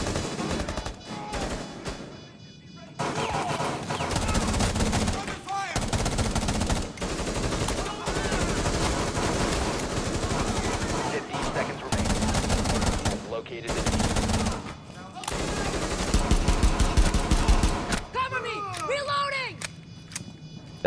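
Pistol gunfire in Rainbow Six Siege, rapid bursts of shots in dense clusters broken by short pauses, loud and up front, with a player talking over parts of it.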